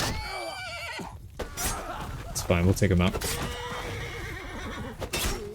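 A horse neighs loudly in the middle of a battle in Mount & Blade II: Bannerlord, a brief whinnying burst amid the clatter of combat while someone talks over it throughout.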